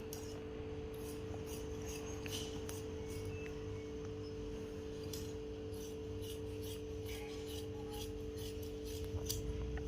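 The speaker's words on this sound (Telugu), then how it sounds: "గీసుకున్న తర్వాత ఇప్పుడు కటింగ్ అయితే చేసుకుందాం" Scissors cut blouse fabric along a marked line, repeated crisp snipping strokes at an irregular pace over a steady low electrical hum, close but fairly quiet.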